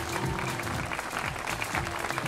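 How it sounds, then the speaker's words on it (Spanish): A concert audience at Espacio Clarín in Mar del Plata breaks into dense, sustained applause that fills the whole moment, loud and close with a crowd roar beneath the clapping. "El aplauso, señoras y señores"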